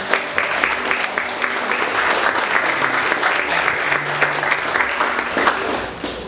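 Audience applause for two visiting sisters at an evening speech gathering, a steady dense patter of many hands clapping throughout, fairly loud and close, with faint murmurs underneath.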